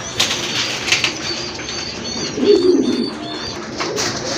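Fancy pigeons at a bird sale coo with low throaty calls while wings flap in short bursts, one louder flutter near the middle, amid soft background chatter and a faint high hum.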